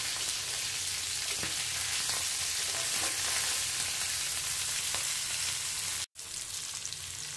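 Fish frying in a pan after being flipped, a steady close sizzle that holds throughout with faint scrapes and a brief dropout near the end.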